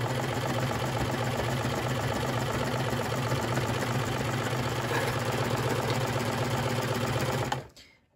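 A sewing machine runs continuously at high speed, stitching a garment lining with a fast, even rattle close to the microphone, before stopping abruptly at the very end.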